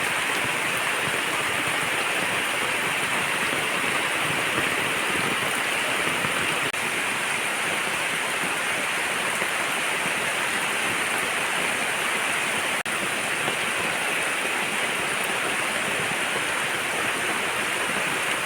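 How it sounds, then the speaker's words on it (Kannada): Steady, dense rain falls continuously, a constant hiss with no pauses and no voices. "ಅಷ್ಟೊತ್ತಿಗೆ ಮಳೆ ಶುರು ಆಗಿಬಿಡ್ತು"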